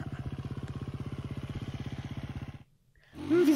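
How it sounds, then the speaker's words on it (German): A motorcycle engine idles with a fast, even chugging pulse for a few seconds, then cuts out abruptly into near silence before a louder burst of noise returns at the end. "Wie soll ich mein Motorrad verladen?"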